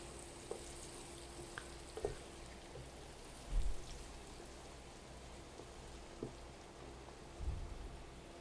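Salted onions fry in a pan with a faint, steady sizzle and a few scattered soft pops and clinks.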